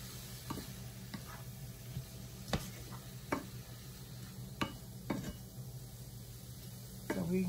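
Puff pastry filling seasoned with black pepper is tossed in a pan, with faint stirring, occasional clinks of utensil on cookware and a low sizzle-like background throughout.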